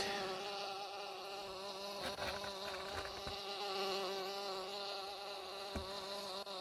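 Steady buzzing of a bee sound effect drones continuously like a bee hovering close by, with a slight wavering pitch and no voices.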